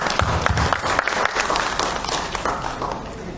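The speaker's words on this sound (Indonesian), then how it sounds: "Mungkin kita boleh tepuk tangan untuk kita semua." A room of notaries at a members' meeting claps together, a dense burst of applause that starts strong and gradually thins and softens toward the end.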